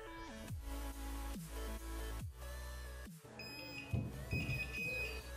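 An electric buzzer wired with an LED into a homemade telegraph circuit sounds in a series of sharp, harsh tonal bursts, repeatedly starting and cutting off with falling tails, close and loud with no talk.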